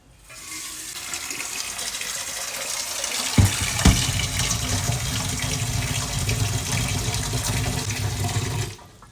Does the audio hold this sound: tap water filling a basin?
yes